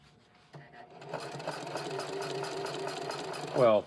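A Singer HD 4411 sewing machine with an even feed presser foot stitches through heavy fabric, its rapid motor whir and needle chatter running steadily at close range and building to a louder burst at the end.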